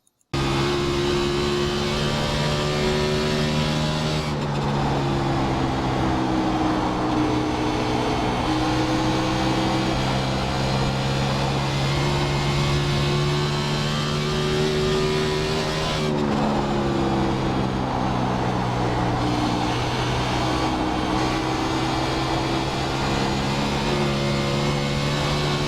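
A race car engine drones through a lap of the Dover oval in the iRacing simulator, a steady loud in-cockpit roar with a couple of distinct shifts in pitch as the car carries speed through the turns.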